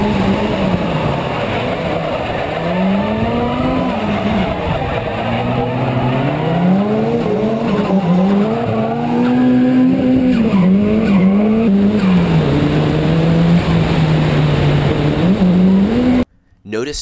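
Nakamura chasing another drift car in a tandem run, sustained wavering tire squeal and engine howl rising and falling as the cars slide sideways, loud and near, cutting off abruptly at the end.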